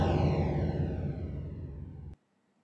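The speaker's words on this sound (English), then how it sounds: "I've added a space designer, which is a kind of reverb plugin for Logic" A kick drum sample runs through Logic's Space Designer reverb, making a loud, washy, slowly fading tail that sounds alone and stops abruptly after about two seconds into silence.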